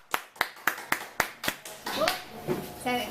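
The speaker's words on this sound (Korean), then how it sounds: "뜨거운 박수를 쳐주시기 바라겠습니다" A short round of hand claps at a middle school student presentation, about six evenly spaced, followed by a burst of mixed clapping and voices toward the end.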